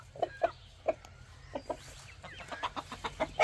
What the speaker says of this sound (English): Beautiful little chickens